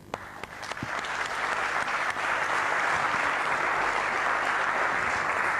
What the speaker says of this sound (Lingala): Nous allons donc applaudir Koffi Olomide